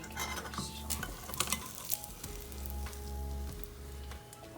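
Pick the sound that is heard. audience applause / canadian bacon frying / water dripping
canadian bacon frying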